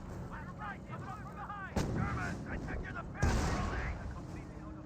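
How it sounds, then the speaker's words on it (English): Rifle fire crackles in the Company of Heroes video game, a couple of sharp loud bursts standing out against the busy battle ambience, with a voice talking underneath. "Rifle engaging at close range."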